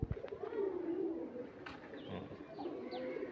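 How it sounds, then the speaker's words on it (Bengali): A Giribaj pigeon from Rajshahi coos softly at close range, a few low throaty calls over faint background noise, with no talking. "পা দেখাও, ছটপটে কবুতর, ছটপটে কবুতর।"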